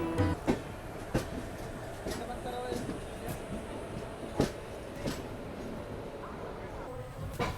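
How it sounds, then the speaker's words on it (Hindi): A passenger train pulls into Kozhikode railway station with a steady rumble and occasional sharp clacks and bumps of the carriages, while voices talk over it. "अभी हमारी ट्रेन कोझिकोड रेलवे स्टेशन पहुंच रही है।"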